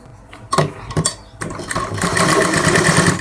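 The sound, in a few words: sewing machine stitching fabric, sleeve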